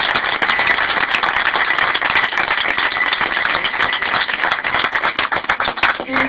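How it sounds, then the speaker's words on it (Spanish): A small gathering claps in honour of Mae West, a loud, close, brisk patter of hands that thins toward the end. "un aplauso por Mae West"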